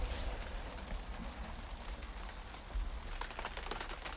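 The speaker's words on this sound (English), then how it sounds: "Aware that the rain's pattering on the roof as I'm recording this" Rain patters steadily on a roof indoors, a dense continuous wash of soft drops with scattered louder taps, fairly quiet and with no talking.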